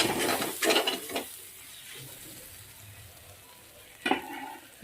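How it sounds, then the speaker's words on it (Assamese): Spices being stirred in a hot frying pan: a low continuous sizzle broken by a few scraping, clattering strokes of a utensil against the pan, fairly close and quiet, no talking. "মিলাই ল'ম মছলাখিনি"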